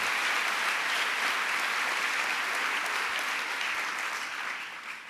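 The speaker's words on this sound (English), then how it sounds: "let's give them a round of applause" Sustained audience applause honoring New York City Council members at a governor's press event with a vice president, dense, steady clapping filling the room that slowly fades toward the end.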